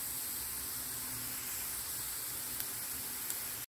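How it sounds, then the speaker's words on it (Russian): Eggplants frying in plenty of vegetable oil give a constant dense hiss, steady and close, cut off by a brief gap near the end. "баклажаны обжариваю приблизительно 10 минут"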